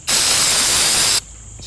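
A single continuous hiss of spray from a bottle onto a car taillight during removal of VHT spray tint, steady and close for about a second before cutting off sharply.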